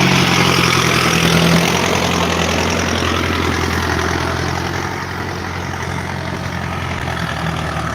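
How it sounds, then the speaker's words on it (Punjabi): A tractor engine rumbles steadily at a poultry farm, its low, even drone running throughout and easing slightly in loudness toward the end. "ਜੱਗੇ ਨੇ ਟਰੈਕਟਰ ਦੇ ਅੰਤਾ ਕਢਾਈ"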